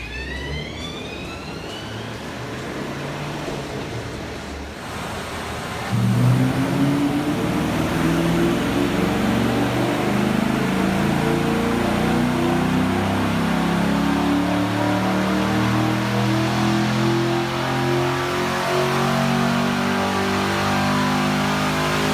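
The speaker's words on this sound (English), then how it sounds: "I just got done baselining the car" A car on a dyno during a baseline run before a flex fuel tune, its engine loud and close, climbing steadily in pitch through a long sustained pull after a steady idle-like drone.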